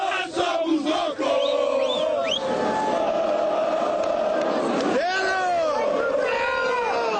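Cruzeiro football fans chant loudly at the Mineirão stadium before kickoff, a dense crowd roar with sung phrases and rising whoops under a steady din.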